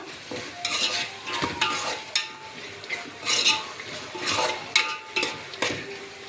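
A spoon scrapes and stirs pulao ingredients frying in a pot, bursts of scraping and clinking against the metal over a soft sizzle, close and repeated, with no voice.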